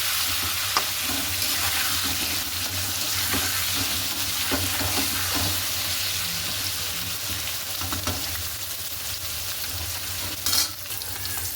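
Potato pieces fry in a pan seasoned with salt and turmeric, giving a steady, close sizzle with occasional stirring clatter and no talking.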